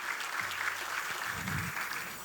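An audience claps for an honoured singer at a stage event, a dense, even patter of many hands, fairly quiet and distant, with no voices over it.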